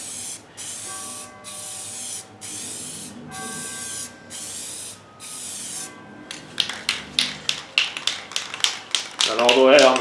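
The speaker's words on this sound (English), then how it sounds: "Make sure you're holding your spray paint back at least 12 inches." A spray paint can hisses onto a cedar board in a row of short, even bursts with brief gaps, then quicker rattly sputters and clicks follow near the end, all recorded up close.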